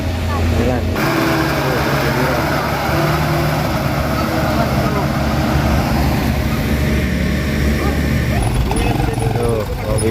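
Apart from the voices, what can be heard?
motor grader working on road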